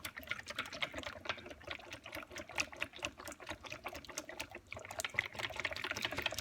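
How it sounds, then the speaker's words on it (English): Heavy cream pours steadily into a bowl of pastry cream, a continuous close liquid stream with soft splashing texture and no talking. "Now I'm going to add some heavy cream."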